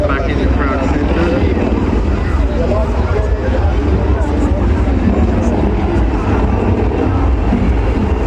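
A display aircraft flies past at the International Ayr Show in Scotland, its steady, loud engine roar continuing without a break. A commentator's voice runs over the noise throughout.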